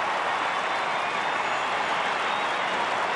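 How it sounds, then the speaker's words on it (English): Stadium crowd at an AFL match between Adelaide and Richmond applauds steadily, a dense, continuous wash of clapping and crowd noise with no break, fairly loud throughout. "Big round of applause for Mark Bickley as he heads downstairs"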